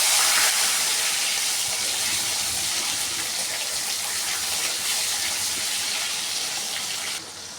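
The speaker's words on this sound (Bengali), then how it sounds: "এবার ফোড়নে দিয়ে দিচ্ছি 1 চামচ সর্ষে আর একটা শুকনো লঙ্কা। দিয়ে দিচ্ছি একটা গোটা টমেটো।" Mustard seeds, a dried red chilli and a whole tomato sizzle in hot oil, a steady, loud broadband hiss that holds for several seconds and eases slightly near the end.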